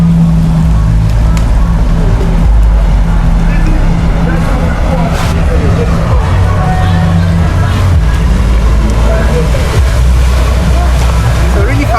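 A jet ski runs across open water at Adome Bridge, its engine droning loud and steady under wind and splashing spray, with people talking over the noise.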